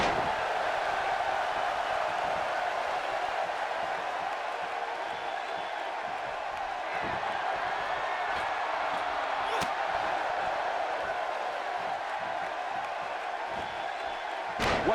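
A Seattle wrestling arena crowd cheers throughout a triple threat match, a sustained, far-off roar of voices that stays fairly even, with a few sharp slaps or thuds cutting through.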